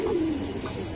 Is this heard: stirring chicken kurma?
no